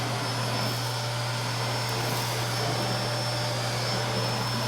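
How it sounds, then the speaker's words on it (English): Bosch GL-20 vacuum cleaner running with a straight suction tool, a loud, steady whooshing roar with a constant low motor hum, close and unbroken throughout, with no talking. "Let's go ahead and vacuum it."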